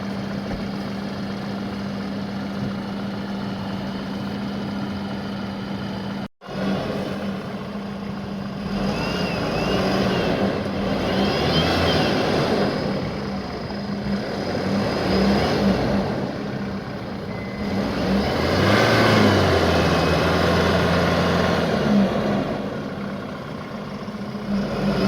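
Force Gurkha BS6 four-wheel drive in 4x4 low, stuck in a hole and over-revved so the tyres spin, with an engine that idles, then swells in repeated surges of revving and drops back between them, with one brief cutout early on.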